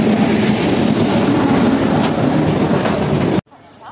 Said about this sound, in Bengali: প্রায় 15 মিনিট আগে একটা মালগাড়ি পাস করছে